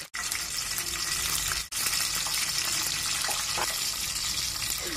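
Garlic cloves fry in hot oil in a kadai, giving a steady, dense sizzling hiss that runs close and loud almost without a break, dipping only for a moment twice.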